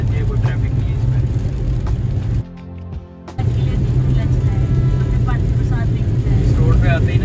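A car cruises along the empty Yamuna expressway in India. A steady low engine and road drone fills the cabin, and it dips briefly in the middle before the rumble returns.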